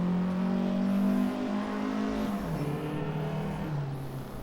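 Vintage 1952 Ferrari 500 race car engine in Assetto Corsa, a loud steady drone whose pitch climbs, then drops in steps as gears change, easing off toward the end with no talk.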